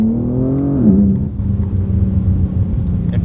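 Chevrolet G8 (G8X) fitted with catless downpipes pulls under acceleration, its loud, close engine note rising in pitch before a shift, then settling into a steady deep rumble for the rest of a short run.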